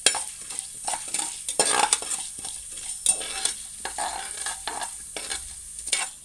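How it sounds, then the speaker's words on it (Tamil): Chana dal fries in hot oil with popped mustard seeds for rice upma while a spoon stirs and scrapes the pan, giving a steady close sizzle broken by repeated clinks and scraping strokes, with no talking. "கடலைப்பருப்பு போட்டுக்கிறேன். அதை நல்லா வறுத்துக்கலாம்."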